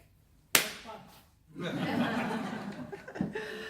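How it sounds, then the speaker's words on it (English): One sharp, loud hand clap rings out early, then is followed by laughter and talking voices. "So, I'll clap again."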